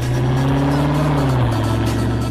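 A Dodge Charger SRT Hellcat Redeye Widebody drives with a loud, close engine drone, a steady low growl whose pitch sags then holds through the stretch.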